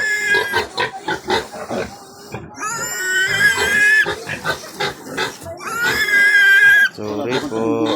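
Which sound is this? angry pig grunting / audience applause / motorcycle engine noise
angry pig grunting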